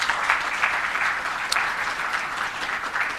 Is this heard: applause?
yes